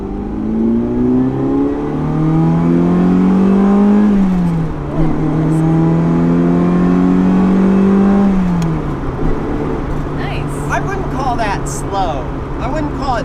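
A sports car's engine pulls hard from second gear while rolling, revs climbing steadily, then dropping through two gear changes before building again; close, loud and continuous.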